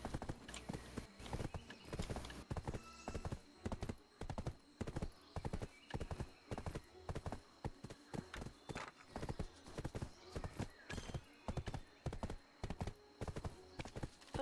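Horse hooves galloping in the video game Black Desert, a fast steady clip-clop rhythm with occasional neighs, continuous and close throughout.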